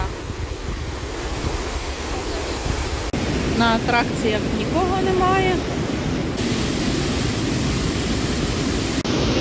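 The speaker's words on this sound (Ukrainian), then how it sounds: "і шумить вода" Loud rushing mountain river water near the Probiy waterfall in Yaremche, a constant dense roar throughout, with a nearby person speaking briefly over it.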